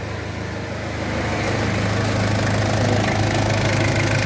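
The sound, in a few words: old car engine idling after starting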